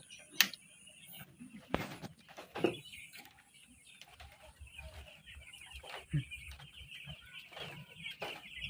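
Hens clucking inside a dim poultry farm, several birds nearby giving irregular clucks and squawks with sharp knocks and rustles between, against a quiet background.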